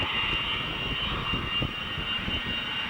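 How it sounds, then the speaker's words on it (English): RNZAF TA-4K Skyhawk jet taxiing along the runway, a steady loud whining jet engine roar with a high-pitched tone, continuous throughout with no voices. "The chute, now he'll taxi down to the end of the runway."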